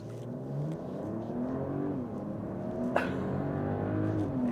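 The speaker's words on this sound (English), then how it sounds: "We're just going to slam on the gas and go and see how quickly we can get to 60." A 2024 Mercedes-Benz GLE 450 4MATIC accelerates hard toward 60 mph. Its engine drones steadily and its pitch climbs in waves as it pulls through the gears, heard from inside the cabin with no talking.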